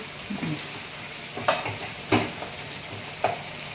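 Spinach greens cooking in a pan, with soft stirring scrapes and a few sharper clinks of a utensil against the pan over a faint background, no voices.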